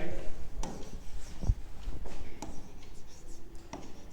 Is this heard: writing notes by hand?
yes